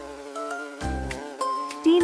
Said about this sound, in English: The bees hover near the surface for a moment, buzzing in frustration.